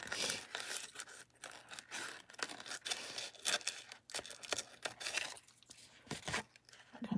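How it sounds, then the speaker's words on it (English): Sticky scissors snip around the edge of adhesive-backed paper, giving a series of close, crisp cuts and light paper crinkles at an irregular pace, fairly faint with a low background hum. "that's why I'm still using my sticky scissors, because there may be a little adhesive kind of around the very edge"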